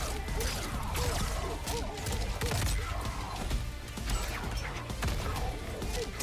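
Explosions and crashing impacts from a fighting video game, a dense loud barrage of smashes and thuds with overlapping hits throughout, game music or effects beneath.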